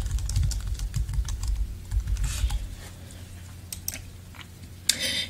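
Typing on a computer keyboard while setting up a team member dashboard in an app, with bursts of quick clicky keystrokes close by, a pause, and a final louder clack near the end.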